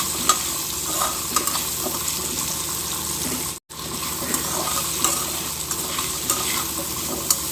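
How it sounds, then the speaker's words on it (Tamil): Small onions sauté in a pan, giving a steady close hiss and sizzle with occasional stirring scrapes, broken by one brief silent gap midway. "நான் மொத்தமாகவே வதக்கி எடுக்கிறேன். இது நல்லா வதங்கட்டும்."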